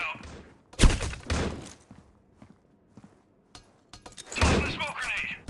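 Flashbang grenade detonating in a tactical team video game match: a sharp, loud burst followed by a ringing, crackling tail, repeated later in the clip, with quiet thuds and footstep-like clicks between the bursts.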